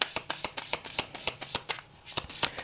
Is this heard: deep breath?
no